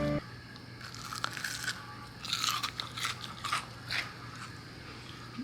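Homemade strawberry crystal candy is bitten and chewed close up, giving sharp crunches in irregular bursts with a low background hum.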